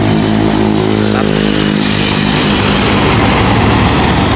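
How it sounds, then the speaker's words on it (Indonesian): A red Ford bus idles loudly and close up at a parking area, giving a steady rumbling engine drone with a brief shift in pitch partway through. "bus warna merah nih, dengan julukan Ford Cook"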